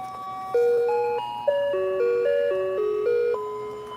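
Motionette animated toy playing its built-in music, a bright tinkling electronic melody of sustained stepping notes running steadily at moderate loudness with no talking.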